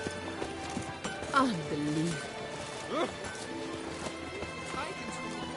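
Hooves of Roach, a horse in The Witcher 3, clip-clop in a steady rhythm close by. A whinny and voices in the game's scene mix over and between the footfalls.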